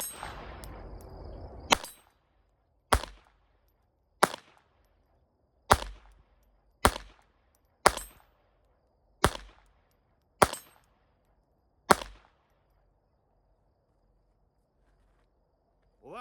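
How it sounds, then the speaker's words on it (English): A Walther PPK/S .22 LR pistol fires at steel dueling tree plates: nine sharp cracks, each with a short metallic ring, spaced about a second apart after a brief noisy start, then silence. "We'll just be able to hear the metal tink and see if we can hit anything offhand with it."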